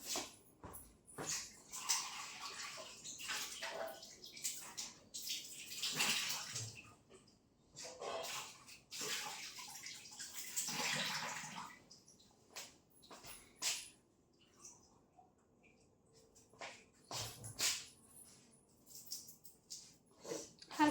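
Food being washed by hand in water before cutting gives close, intermittent splashing and sloshing in uneven bursts, with short quiet gaps between them.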